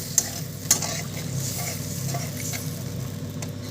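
Water is poured into blended mustard paste in a hot cooking pan, giving a steady close sizzle and bubbling with a couple of sharp utensil clinks near the start and no talking.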